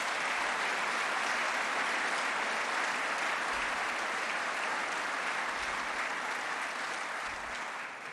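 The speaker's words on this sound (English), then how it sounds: "They deserve a round of applause." A large audience applauds students during a city's State of Metro address, sustained, thick clapping that stays constant and full for about eight seconds before easing slightly at the end.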